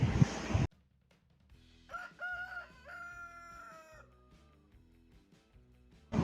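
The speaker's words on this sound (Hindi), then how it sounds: "Kock, this is Kock. Kock means मुर्गा।" A rooster crows once, a clear, drawn-out call that rises and then falls, preceded by a brief loud burst of noise and set against a steady low background rhythm.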